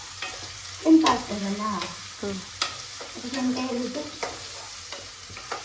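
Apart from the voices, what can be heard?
chicken sukka with ginger being stirred and fried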